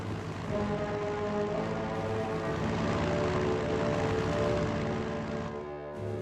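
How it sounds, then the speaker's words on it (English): Tactical bomber aircraft in the game Strategic Mind roars past with a loud, sustained propeller-engine drone, steady and close, dipping briefly near the end. "Tactical bomber standing by."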